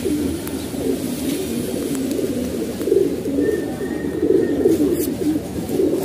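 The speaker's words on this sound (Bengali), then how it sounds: "এটা গানচিল কবুতর" A Giant Runt pigeon kept among breeding pairs gives repeated low throaty coos in a steady rolling rhythm, close and fairly loud, with light rustling behind and no speech.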